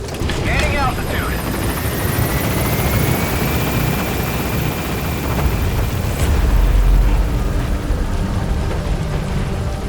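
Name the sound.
helicopter gaining altitude in video game Metal Gear Solid V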